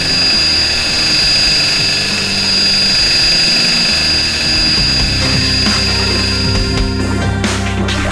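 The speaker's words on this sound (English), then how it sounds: "This allows the machine to no longer limit its revs per minute and instead run with full effect." A Husqvarna K760 power cutter's petrol engine screams at high, steady full revs, a loud continuous whine with strong tonal harmonics that wavers slightly near the end.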